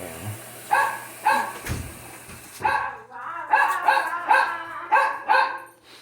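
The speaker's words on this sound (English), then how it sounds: "Excuse the dog." An indoor dog barks repeatedly and loudly nearby, about eight or nine sharp barks in an uneven rhythm with short pauses between them.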